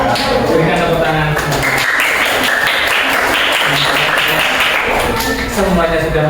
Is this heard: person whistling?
no